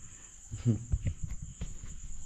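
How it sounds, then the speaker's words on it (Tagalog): Faint cricket chirping runs as a steady high trill through a quiet night, with a few soft low thumps and rustles nearby. "Pero naririnig natin yung mga kuliglig."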